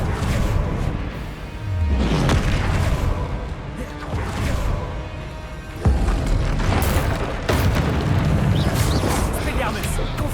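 Confringo fire-spell blasts in the Hogwarts Legacy video game, heavy booming explosions with whooshes and crashing debris, loud and repeated, mixed with game effects and someone talking over them.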